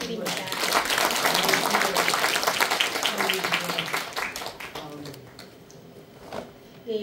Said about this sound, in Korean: 좋은 강연을 해주신 최성재 교수님께 다시 한번 큰 박수 부탁드립니다.